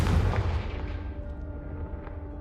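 A Confringo fire spell blast in Hogwarts Legacy on PS5, a loud booming burst up front that rumbles and fades away over a couple of seconds.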